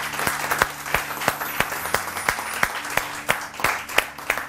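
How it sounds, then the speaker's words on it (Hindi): A studio audience applauds, and the dense crowd clapping is punctuated by sharp, loud individual claps at a quick, uneven rhythm throughout. "बहुत सारी तालियां।"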